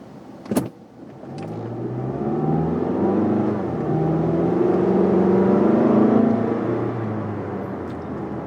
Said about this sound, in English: See, the engine revs happily. It's a nice sounding engine.